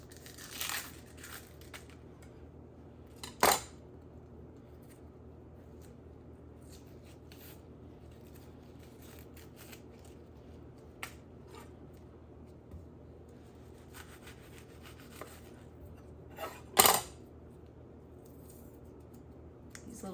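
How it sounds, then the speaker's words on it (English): An onion is peeled by hand for broccoli cheese soup, giving quiet dry crinkling and rubbing of papery skin, with a few sharp snaps and tears standing out over a faint kitchen background. "So I'll go ahead and peel this onion."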